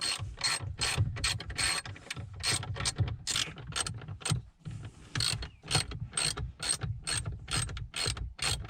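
A hand ratchet works bolts loose from an Abarth 500 gear shifter, a fast close-up run of clicking pawl strokes in steady bursts with a brief pause midway.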